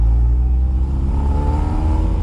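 A Toyota MR2 SW20 engine idles steadily close by, with a low, continuous exhaust rumble and a faint puffing hiss from a leaking weld on a new exhaust section, and no voices.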